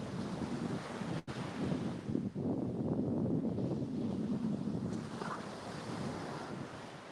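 Surf rolling onto Panama City beach at incoming tide, a steady roar of breaking waves mixed with heavy wind buffeting the microphone.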